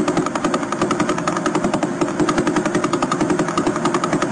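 Radio signal from a faster pulsar: a rapid, continuous stream of pulses over dense static, a fast rattling throb that stays loud and even throughout.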